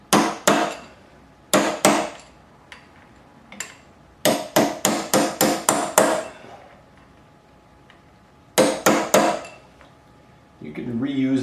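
Sharp metal hammer strikes on a punch against a Suzuki GS550 motorcycle clutch, in clustered bursts of two to six ringing blows with pauses between, close and loud, ending with a brief rattling scrape.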